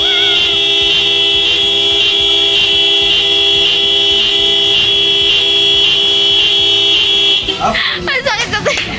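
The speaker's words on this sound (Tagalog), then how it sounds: "ang ating G-Star horn version 3" A loud, sustained aftermarket G-Star motorcycle horn, version 3, on a Kawasaki Fury 125 blares steadily for several seconds, close up and piercing, then cuts off as people start talking.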